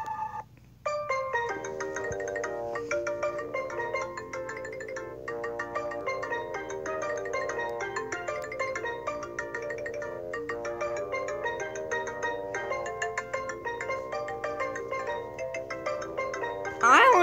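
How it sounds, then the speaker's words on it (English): A bright, melodic electronic ringtone plays steadily and loudly for the whole stretch, its tune repeating with no pauses. "I honestly like the ringtone."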